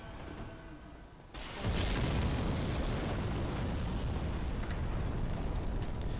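Lingering fire from an enemy attack in Dark Souls Remastered suddenly flares into a loud, continuous roaring rush that fills the rest of the moment without pause, with no voices over it.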